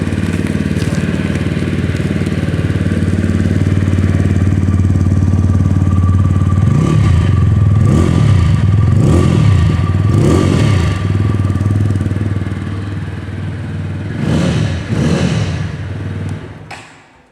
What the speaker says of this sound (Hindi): एग्जॉस्ट जो साउंड है वो भी मैं आप लोगों को सुनाना चाहूँगा